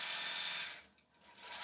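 A longarm quilting machine stitches across a flannel baby quilt in a zig-zag pattern, giving off a soft, steady mechanical hum that dips briefly midway, then resumes.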